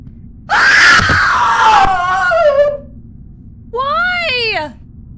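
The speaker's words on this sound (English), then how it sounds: "I heard a scream in the basement." A loud scream echoes from a basement in the horror game Night Grove, a long wavering shriek that falls in pitch, followed after a short gap by a second, briefer wailing cry.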